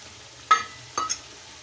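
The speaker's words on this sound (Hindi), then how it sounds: "क्या मज़े से मसाला भून रहा है" Masala for beef paya is stirred and fried in a pan, giving two short scraping, sizzling bursts close by over a low background.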